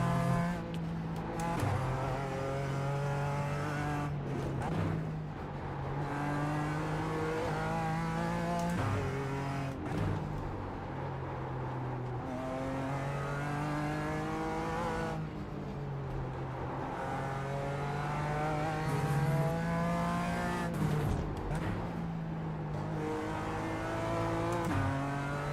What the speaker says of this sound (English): I think we're getting to grips with the BMW again